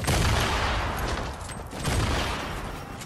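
Rapid gunfire in a Fortnite Battle Royale fight, loud continuous bursts of shots with booming low end, sustained throughout with a brief dip midway.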